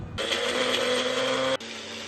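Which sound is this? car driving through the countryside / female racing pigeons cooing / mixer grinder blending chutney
mixer grinder blending chutney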